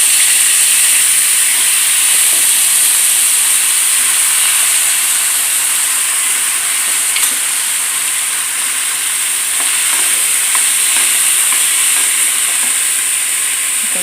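Green chilli, potato and plantain pieces sizzle in a hot pan, giving a loud, steady, hissing frying sound that continues without a break throughout.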